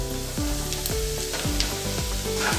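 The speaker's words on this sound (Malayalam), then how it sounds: "നമ്മളിനി ഇതിലേക്ക് ചിക്കൻ നേരത്തെ ഫ്രൈ ചെയ്ത് വെച്ചത് ചേർത്ത് കൊടുക്കുകയാണ്." Onions sizzle loudly in a hot pan as pre-fried boneless chicken for a pulao goes in, a steady close frying hiss with repeated stirring and scraping strokes; background music plays throughout, with no talk.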